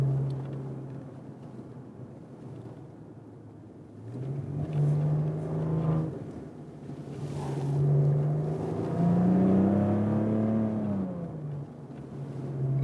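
A Maserati Ghibli SQ4 with all-wheel drive and a V6 petrol engine climbs uphill, its engine droning low and steady from inside the cabin, then rising in pitch through several gear pulls and dropping back, with no talk.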